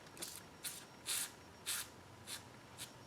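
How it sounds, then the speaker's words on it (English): Silicone spray aerosol is applied in several short hissing bursts on an Audi S4 rubber seal, six quick spurts at an uneven rhythm, faint and close with no talking. "I'm going to give it a little shot of silicone spray."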